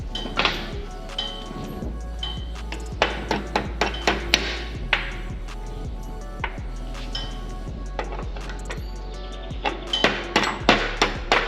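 Repeated metallic taps of a tool seating a handbrake part on a Toyota Landcruiser, light clinks in irregular bursts over a steady low hum, close and moderately loud.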